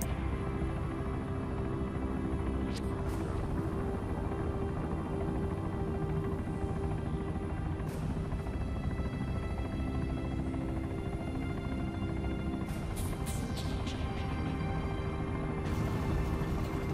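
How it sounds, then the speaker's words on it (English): Mil 48 helicopter in ARMA 3, a steady loud rotor and turbine drone held throughout with a few brief sharp clicks and transients on top. "As I jump into the Mil 48, you'll get to see how I take out its motor using a radio trigger."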